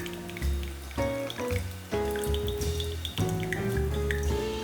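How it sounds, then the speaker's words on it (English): Grape juice strained into a 500 ml bottle trickles and drips in uneven pulses, with distinct rising filling tones as the liquid pours in close by. "So I'm gonna be straining, filling up my bottle."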